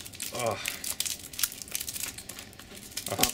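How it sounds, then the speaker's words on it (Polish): Plastic shrink-wrap foil crinkling and tearing as it is pulled off a PS Vita game box, close crackly rustles in short bursts, with someone speaking over parts of it. "Ściągamy folię."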